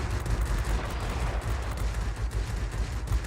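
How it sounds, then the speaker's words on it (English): Machine guns on a Ki-43 aircraft in World of Warplanes rattle in a dense, continuous stream of rapid shots over a steady rumbling drone. "we're going to show off these guns now"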